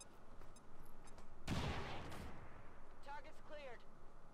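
Grenade blasts in the tactical game XCOM Long War 2: a sharp, loud explosion bursts out midway and rumbles off, framed by quieter crackling effects and faint chirps.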